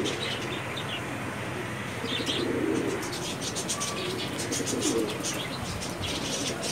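A pair of healthy chila pigeons coo in low, soft bursts while small chirps and occasional wing flutters sound nearby, all over a steady background hum with no voices.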